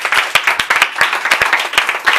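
A church congregation applauds to acclaim the Lord during a prayer service for Côte d'Ivoire, many hands clapping in a loud, close, irregular patter that keeps going throughout.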